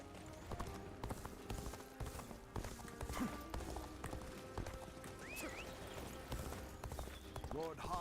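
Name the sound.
horse hooves galloping in Dynasty Warriors: Origins video game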